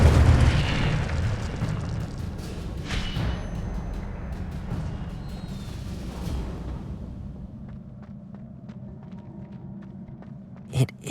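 Incendio fire spell cast in Hogwarts Legacy, a loud roaring burst of flame that fades into a low rumbling bed, with a few faint clicks and a sharp pop near the end.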